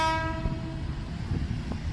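At Bang Sue Central railway station in Bangkok, a train horn sounds briefly at the start, then fades into a steady rumble of rolling rail cars with a few clanks.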